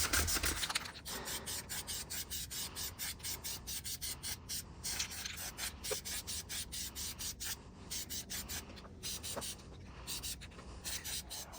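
A Ford F350 tow hook being sanded by hand with 200 grit sandpaper, a steady run of rapid back-and-forth rasping strokes, close and fairly quiet, with no talking.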